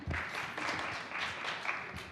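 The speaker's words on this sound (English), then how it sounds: "Yes, yes, we can clap." An audience at a social justice institute event claps briefly, scattered soft applause from a room of people, faint and somewhat distant, lasting only a couple of seconds.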